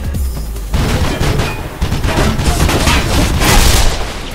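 Gunfire from the video game Mirror's Edge, a dense, loud burst of rapid shots and booms that continues for several seconds.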